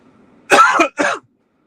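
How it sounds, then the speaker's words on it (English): Two quick, rough coughs close by, the first a little longer, then silence. "kind of like coughing over here"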